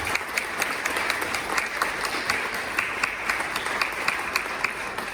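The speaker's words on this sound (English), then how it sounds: "Please join me in a round of applause for all of those donors." A crowd at a campaign kickoff event applauds donors, with steady, dense clapping sustained throughout at moderate loudness.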